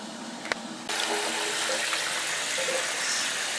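Hot water from a newly installed water heater gushes steadily from a tap after a brief click, starting abruptly and running loudly and continuously at close range.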